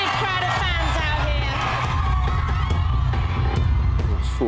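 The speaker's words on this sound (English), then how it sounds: "You have got such a massive, massive, massive crowd of fans out here." A massive crowd of fans cheers and whoops continuously, a dense and loud roar of many voices with shouts rising out of it and no single voice standing clear.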